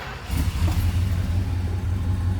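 A 1968 Dodge Coronet 440 two-door hardtop V8 rumbles close by, starting with a rise and settling into a deep, steady idle.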